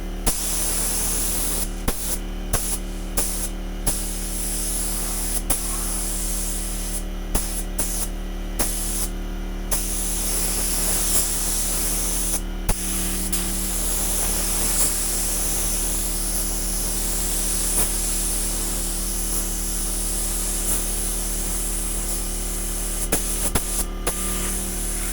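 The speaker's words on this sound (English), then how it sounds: "I'm going to shoot the first coat of clear and we'll see how that goes." A spray gun lays the first coat of clear coat on a car in a home garage: a steady, close, loud hiss broken by short pauses between passes, with no talking.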